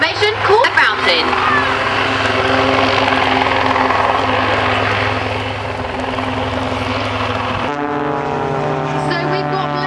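Display jets at the 2008 Waddington air show pull up into a fountain formation, a loud, broad engine roar that holds steady and then shifts in pitch, with a commentator talking over it.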